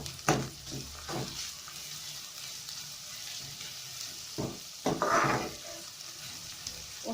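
Onions frying toward golden brown in a pan, a continuous soft sizzle broken by a few louder stirring scrapes and splutters near the start and in the middle.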